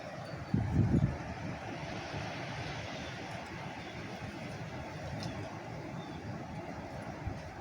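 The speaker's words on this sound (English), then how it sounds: "Here comes another gust of wind." Gusty wind on a windy morning during a wind advisory, heard from inside a garage: a brief, louder low buffeting burst near the start, then a steady, moderate rushing roar with no talk.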